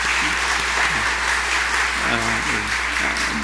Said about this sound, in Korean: 목사님 잠깐 일어서 주시면 우리 박수로 우리 환영하겠습니다